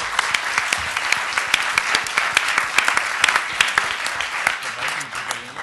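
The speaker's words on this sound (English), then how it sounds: "How about a round of applause?" Lecture audience at a university distinguished lecture breaks into applause, a dense, loud roomful of clapping hands with sharp individual claps standing out throughout.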